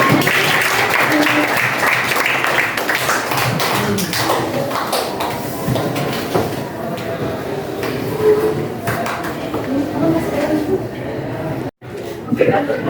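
Audience clapping in a madrasah classroom during a student teaching session, broad applause loudest at the start and thinning out over several seconds, with voices talking over it.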